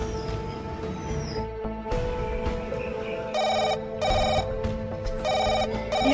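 A telephone rings with repeated bursts of electronic trilling, steady and fairly close, over a low background hum.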